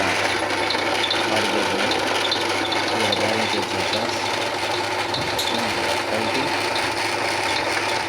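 An Amma wet grinder with a worn bearing runs steadily, giving a continuous close mechanical whir with a faint rattling, ratchet-like texture throughout, no voices.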